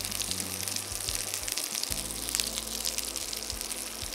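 Meat jus poured into warming quinoa produces a loud, gushing, crackling sizzle that runs continuously and close up, with a low hum beneath it and no voices.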